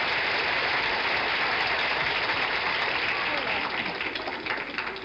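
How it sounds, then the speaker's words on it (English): Studio audience on a 1974 NBC TV game show applauding, a dense, steady wash of clapping that fills the whole stretch and tapers slightly near the end. "Give her a good round of applause."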